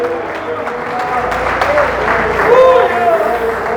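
A church congregation applauds Jesus during a service, brisk clapping from many people with a sung or spoken voice and shouts rising over it.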